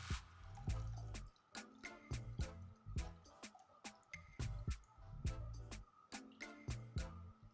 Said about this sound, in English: be careful and then decant the water